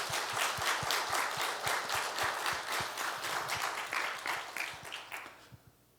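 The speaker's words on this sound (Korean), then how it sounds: "우리 하나님께 큰 박수 한번 올려드립니다." A church congregation applauds together, a dense steady clapping with a strong regular beat that carries on for several seconds before thinning out and fading at the end.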